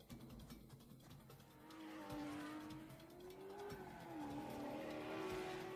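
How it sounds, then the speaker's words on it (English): A car engine roars in the video game Uncharted 4, a faint racing-style whine rising and falling in pitch with brief tire squeals, heard alone without talk. "We can hear car roaring."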